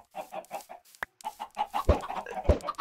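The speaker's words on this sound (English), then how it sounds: "throwing an egg will spawn 4 chickens" Chickens clucking in the Minecraft video game, a short run of rhythmic clucks followed by louder, denser clucking from several birds close by.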